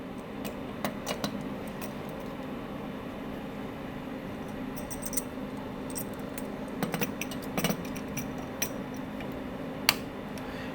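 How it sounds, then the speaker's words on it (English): Metal push rods slid back into an SL 500 gravity soft-serve machine and locked in place, giving scattered light clicks and metallic clinks over a steady machine hum, close by and moderately quiet. "We're going to just put our push rods back in, push up and lock in on each one."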